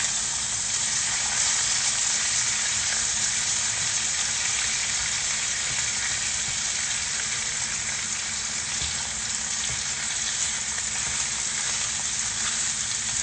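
Bacon frying in a pan, a steady loud sizzle and crackle that holds unbroken throughout with no talking over it.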